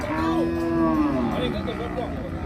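Cattle mooing at a livestock market in Nong Kung, Maha Sarakham, Thailand: one long, loud, close low moo over a steady crowd and yard noise, with faint voices in the background.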